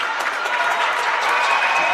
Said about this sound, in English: Crowd signalling their appreciation